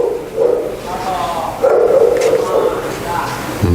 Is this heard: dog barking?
yes